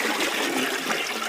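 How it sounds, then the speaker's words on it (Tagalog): A newly built toilet at a farm campsite in Lumban, Laguna flushes with strong, rushing water, a steady loud gush close by that fills the whole moment with no voices. "Malakas ang flush."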